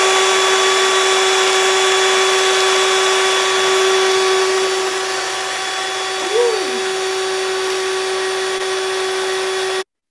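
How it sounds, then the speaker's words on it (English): A power drill fitted with a flathead screwdriver bit spins steadily to crank out knitted I-cord, a constant high-pitched motor whine held for about ten seconds before it cuts off, with a brief pitch wobble near the end. "I got a lovely drill bit using a Phillips screwdriver head."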